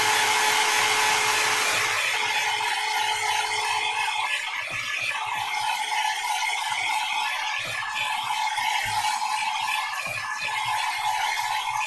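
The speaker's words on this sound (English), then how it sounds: "make sure it's all really dry" A hair dryer drying a watercolour painting runs as a steady, loud whir with a constant whine, blowing close by for about twelve seconds with slight wavering, and no talk.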